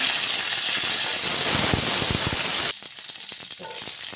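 Cardamom, cloves and curry leaves frying in hot oil for a homestyle chicken curry, a loud close crackling sizzle with sharp pops that suddenly drops to a quieter, sputtering hiss partway through.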